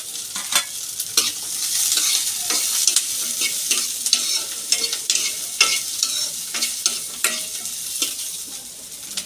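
Nalleru (veld grape stems) frying with garlic in a pan for chutney, a steady hiss of oil broken by frequent crisp scraping strokes of a spatula, close and fairly loud, with no voices.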